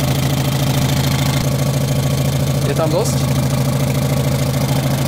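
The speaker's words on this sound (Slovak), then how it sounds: "Takže motor nám beží úplne fantasticky." A Škoda Felicia's engine runs steadily at idle up close, a continuous low drone with a loose, ticking exhaust gasket, while people talk briefly over it.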